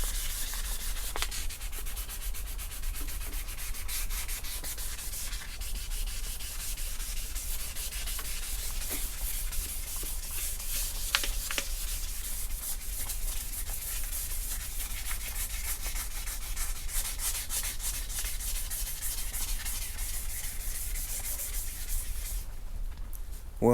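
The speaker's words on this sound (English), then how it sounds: "Well, I'm finished sanding this here," Someone sands a custom roll pan on a Chevy Tahoe by hand, making a continuous, even scratchy rubbing that runs steadily throughout without pauses and without talk.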